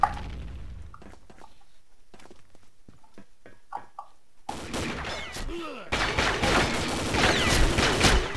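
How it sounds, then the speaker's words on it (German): Shotgun fire in a video game, heard as scattered sharp blasts early on, then a dense run of rapid shots and clatter that grows louder toward the end. "Das hier ist viel schneller mit dieser scheiß Shotgun."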